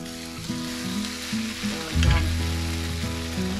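French toast frying in a pan gives a steady, fairly loud sizzle, swelling into a brief burst of crackling midway before settling back to an even hiss.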